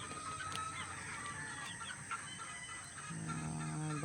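One-month-old hatched chicks cluck and peep steadily in their pen, a soft, busy chorus of overlapping calls with no speech.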